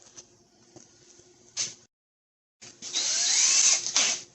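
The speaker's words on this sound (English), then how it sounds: "So I'm gonna pre-drill the holes." A power drill pre-drilling holes for stainless steel Phillips screws while fitting a grille on a 2008 Ford F-150 STX 4x4 whirs in short bursts up close, stopping briefly, then spinning up again in a longer, louder run.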